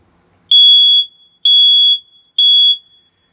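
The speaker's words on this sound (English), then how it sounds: "press the button for up to 5 seconds or until you hear an alarm" A smoke detector's test alarm sounds three loud, piercing beeps, each about half a second long, evenly spaced and alone against silence.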